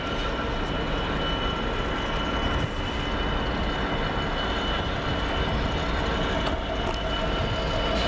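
A steady, heavy rumble of a steel freight train hauled by Class 66 locomotive 66069 rolling past nearby at Small Heath, continuous broadband noise holding level throughout with no voices.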